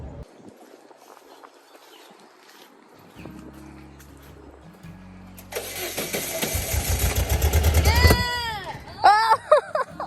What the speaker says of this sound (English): the kombi won't start, so we're thinking there might be some water in the engine